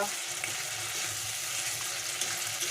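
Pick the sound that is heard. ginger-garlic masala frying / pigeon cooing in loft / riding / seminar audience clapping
ginger-garlic masala frying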